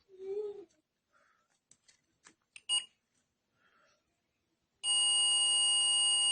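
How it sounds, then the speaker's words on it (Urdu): A digital multimeter in continuity mode gives a loud, steady electronic beep that starts abruptly after a few faint clicks and soft handling sounds from the probes. "ملٹی میٹر کے اوپر نہ صرف ریڈنگ آئے گی بلکہ اس کے ساتھ ایک بیپ کا ساؤنڈ بھی آئے گا۔"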